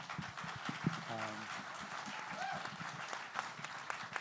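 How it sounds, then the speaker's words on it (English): An audience at a street films panel discussion bursts into applause, a dense patter of many hands clapping with crowd murmur and a voice speaking over it. "Let's give a hand to Cody and Mary and everyone."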